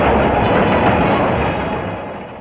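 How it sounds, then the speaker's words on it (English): Third Avenue elevated train in New York City, old wooden cars with some steel in them, rumbling into a station: a loud, steady, close roar that fades slightly toward the end. "the train would come rumbling in"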